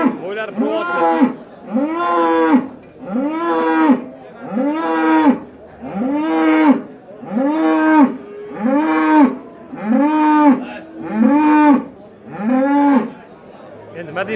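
Swedish breed cattle at a livestock market moo loudly and close, about a dozen long drawn-out calls in a steady repeating rhythm.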